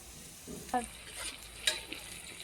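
Spice masala with turmeric, chilli, cumin and ginger paste is stir-fried with local potatoes in a pan, producing a few soft scrapes and clinks of a spoon over a quiet, faint sizzle.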